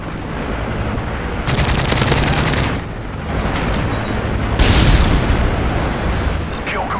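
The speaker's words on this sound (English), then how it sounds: "This is Vulture 2-1 in position for gun run." A helicopter gun run in Call of Duty MW3 on the Seatown map, loud sustained bursts of rapid machine-gun fire with booming impacts, coming in waves with short breaks.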